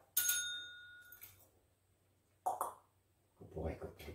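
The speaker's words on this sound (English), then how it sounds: "Ring the bell." A lionhead rabbit rings a small bell: one bright, ringing chime, then a fainter tinkle, followed by a person speaking briefly.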